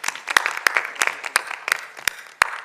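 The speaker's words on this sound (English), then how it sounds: "A big round of applause." Scattered hand claps from a small audience at a team scoring announcement, roughly a dozen sharp, evenly spaced claps over a soft patter, fairly close and moderately loud.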